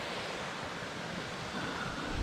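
Water rushes over rocks at Marrinup Falls, a dense continuous roar close by with no breaks, slightly swelling toward the end.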